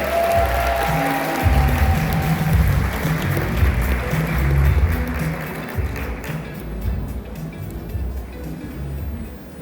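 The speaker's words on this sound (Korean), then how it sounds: "우리 여러분 뜨거운 박수 부탁드립니다." A crowd at a wellness business seminar gives sustained, dense applause to welcome a speaker to the stage, a steady loud wash that eases slightly toward the end.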